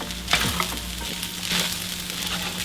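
Breakfast fried rice with eggs fries over low heat in a pan, a soft steady sizzle with a couple of brief stirring scrapes, close and without talk.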